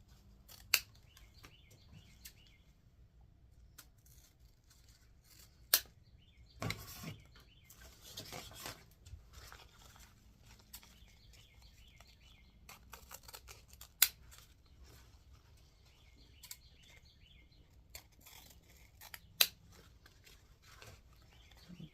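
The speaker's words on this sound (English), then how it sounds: "I cut them at an angle." Scissors cutting satin ribbons at an angle for a patriotic mailbox flower arrangement, a handful of faint, scattered snips and rustles across a quiet room, with faint bird chirps.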